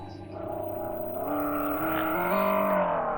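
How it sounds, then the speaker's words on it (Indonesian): Synthetic engine tone from a United T1800 electric motorbike, a smooth artificial hum rising and falling in pitch with the throttle, heard steadily and fairly close without talk. "Ini seperti suara motor tiruan ya."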